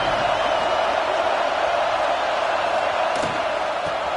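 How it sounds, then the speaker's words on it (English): A large video-game stadium crowd at a college football game roars in a steady, dense wash of noise, with a brief thump partway through. "Listen to the crowd energy here in the early going."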